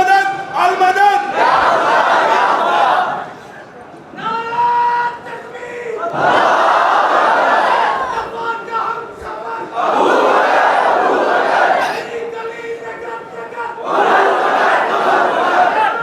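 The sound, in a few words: crowd chanting religious slogans at gathering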